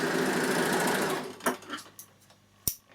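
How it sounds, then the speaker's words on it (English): Bernina L450 overlocker stitching over a thread tail: a steady, fast mechanical whir runs close and loud for about a second, then stops, leaving a few faint handling clicks and one sharp tap near the end. "this time we're going to go a little bit further and we're going to sew over this little tail."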